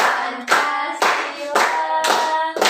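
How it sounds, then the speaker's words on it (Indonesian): A group of students claps along to an Indonesian national song, about five or six sharp, evenly spaced claps roughly half a second apart, loud and close, with singing voices ringing between them. "Yuk, yang lain tepuk tangan juga boleh yuk."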